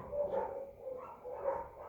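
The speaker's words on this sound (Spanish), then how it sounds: "Me imagino que se están escuchando los ruidos de los perros" Dogs bark off in the background, a few muffled, fairly faint barks rising and falling over about two seconds with no talk on top.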